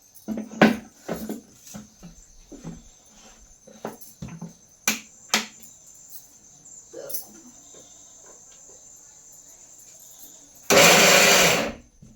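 A kitchen mixer grinds a sabudana vada mixture fine in one short, loud whirring burst of about a second. It comes near the end, after a series of sharp clicks and taps, and someone talks in between.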